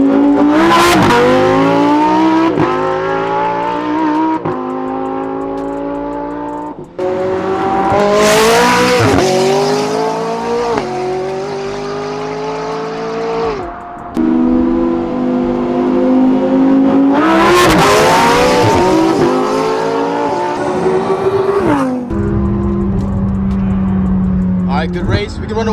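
A Lamborghini Huracan STO and a McLaren 600LT engines in a drag race, loud revving with rising gear-shift sweeps repeated in several surges, tire noise, and people talking over it.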